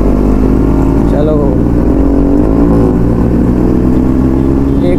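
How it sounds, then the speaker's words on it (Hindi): A nearby R15 motorcycle fitted with a loud exhaust drones and revs steadily for five seconds, the deep engine roar heavy and close, with voices talking over it. "एग्जॉस्ट का साउंड सुन रहा है उसका कितना ज़्यादा लाउड लगा रखा है उसने"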